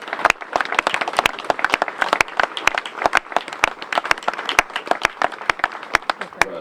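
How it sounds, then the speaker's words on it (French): Officials and onlookers at the inauguration of the Koufra oath monument in Nouans give a round of sharp, dense hand clapping, steady throughout with many individual claps standing out close by. "Bravo, sous vos applaudissements"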